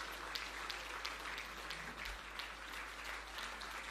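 An audience applauding at a Ministry of Labour and Social Security awards ceremony after an honoree is asked to stand, a dense steady wash of clapping from a crowd, fairly distant and continuous throughout, with no voices.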